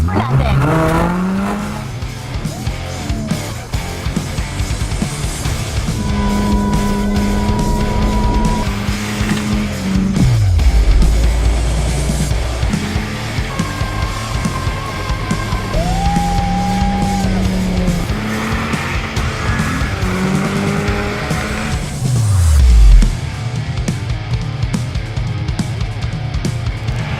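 A stunt car spins with tires squealing and the engine rising and falling in loud, sweeping revs, and people talk over part of it.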